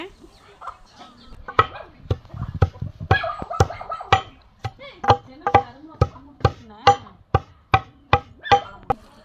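Karumbula fruit pounded by hand for homemade herbal hair oil, a run of sharp, steady thuds close by, quickening into a regular rhythm, with faint voices in the background at the start.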